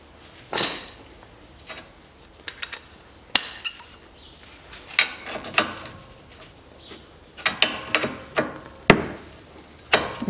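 A wrench loosens the greased 18 mm nut on the front stabilizer link of a 2009 Volkswagen Tiguan during a strut bearing job. Metallic clanks and ratcheting clicks come in irregular bursts, close and fairly loud, with no talking.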